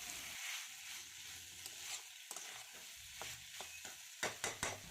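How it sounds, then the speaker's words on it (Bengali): Beans, potatoes and carrots sizzle softly in a pan while a spatula stirs and scrapes, with several sharp clinks and scrapes near the end over a faint frying hiss, quiet and close. "এবার আরেকটু নাড়াচাড়া করে ভাজা ভাজা করে নেব যাতে এখানে ভিজে ভাবটা চলে যায়।"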